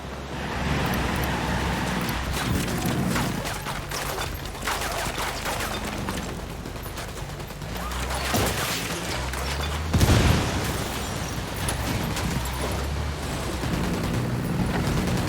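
Gunfire in the open-world shooter Ghost Recon Wildlands crackles in scattered bursts over steady background noise, with one louder blast around the middle.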